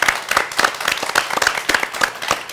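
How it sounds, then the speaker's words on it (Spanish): A studio audience at a televised political debate show applauds, giving dense, steady clapping throughout. "un aplauso por favor al público"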